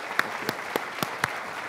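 Audience applause at a technology summit greeting a Deputy Prime Minister as he takes the stage: a handful of distinct sharp claps over a low crowd wash, moderately loud and fairly sparse.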